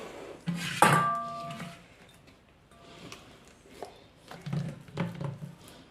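Coarsely ground dal batter for medu vada being scooped into a bowl, with a loud early clatter of a utensil against the container followed by softer scrapes and thuds, close and without speech.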